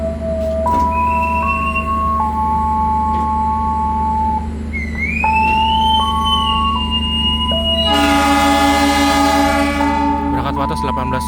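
Aboard the Gaya Baru Malam Selatan passenger train in Indonesia as it departs, a loud steady hum underlies repeated two-tone horn or whistle blasts, stepping between pitches, ending in a brighter, louder sustained honk near the close.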